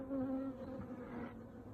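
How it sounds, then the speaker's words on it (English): A big hornet buzzes briefly near an apiary, its quiet droning hum wavering in pitch as it passes. "That was a big hornet"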